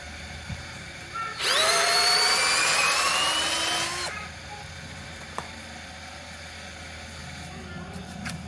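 A Fujiyama 12V cordless drill bores into wood, its motor whining loud and steady for about three seconds before winding down, with quiet room noise before and after.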